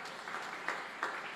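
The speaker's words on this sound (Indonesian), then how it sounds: "Tepuk tangan yang meriah untuk kemuliaan Tuhan" Church congregation applauding during a sermon, a brief steady wash of clapping at moderate distance with a couple of louder bursts.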